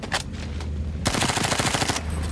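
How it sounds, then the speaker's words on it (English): Rapid automatic gunfire in the video game PUBG Black Budget, loud and close: a few isolated shots, then a sustained burst of fast repeated fire that continues to the end. "the recoil's a bit crazy, and I think we have a clip of Chris absolutely whiffing as well"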